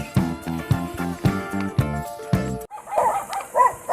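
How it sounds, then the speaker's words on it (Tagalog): Several dogs bark in quick repeated bursts, fairly close, with a brief pause before more excited yelping and barking follows. "Active pa yung mga aso niya talaga."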